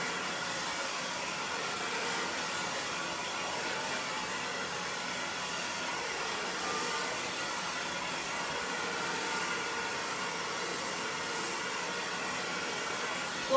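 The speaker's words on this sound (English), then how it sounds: "Blow drying is one of my favorite things to do" A hair dryer blows steadily while drying long layered hair, a continuous close whooshing roar at even loudness that runs unbroken throughout.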